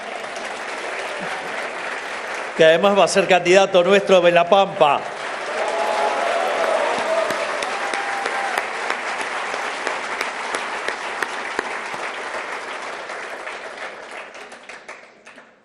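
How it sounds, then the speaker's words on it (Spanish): At a political speech in Argentina, someone speaks briefly to the audience, and then a large crowd breaks into loud, sustained applause. The clapping fills a hall and fades slowly over about ten seconds. "aplaudamos también a Adrián Rabier"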